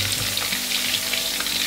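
Chicken meatballs deep-fry in hot oil with a dense, continuous bright sizzle and crackle, close and steady throughout.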